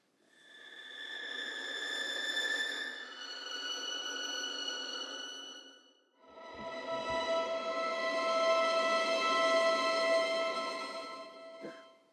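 Sustained bowed strings from the Spitfire Albion Solstice Strings library playing long held notes, with a grainy, airy hiss of rosined bow on string beneath the tone, in two phrases separated by a brief pause.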